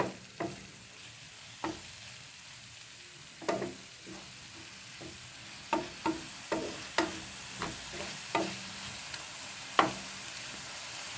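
Prawn sambar with tamarind juice cooks in a pan with a soft steady sizzle, while a spoon scrapes and stirs in irregular clinks and taps, close and quiet with no talking.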